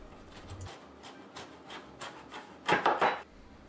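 A knife cuts a pumpkin in half, the blade biting in with a few soft crunching strokes and then a louder cluster of close, sharp cracks near the end as the halves split.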